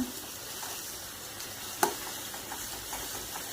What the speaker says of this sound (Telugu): ఇప్పుడు ఇది బాగా వేపేసుకోవాలి